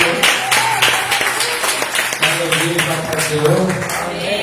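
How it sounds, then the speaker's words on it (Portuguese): A church congregation claps for the Lord during a worship service, a dense, steady patter of many hands filling the room while a voice and other sounds continue underneath. "vamos aplaudir o Senhor para mim"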